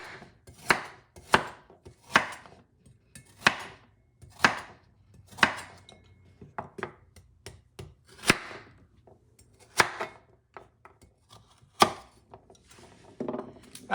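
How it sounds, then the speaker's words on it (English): A knife chops a carrot into chunks on a cutting board, a dozen or so sharp, distinct knocks at an uneven, unhurried pace, close and clear with no talk. "Carrot. Cut them in chunks too."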